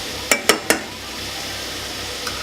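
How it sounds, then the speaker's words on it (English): A spoon scrapes and knocks three quick times through sweet potato and white bean chilli in an overfull pan on low heat, followed by a soft, steady sizzle. "Again, we're just gonna stir regular."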